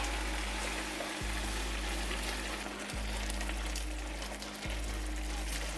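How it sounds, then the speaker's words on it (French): Food with mascarpone and grated cheddar simmering in a pan, a loud, dense, continuous sizzle and bubbling, steady throughout with a low hum beneath. "vous pouvez laisser mijoter tranquillement"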